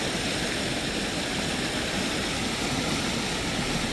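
Gooseberry Creek in the Catskill mountains rushes through its rapids with a steady, loud, unbroken roar of churning water and no speech.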